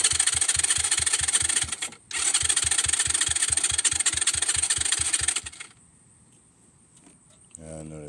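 A pit bike's engine cranks over on its electric starter with the choke on and no fuel, a fast rhythmic churning that pauses briefly and resumes before stopping, followed by near-silence and a short low rumble.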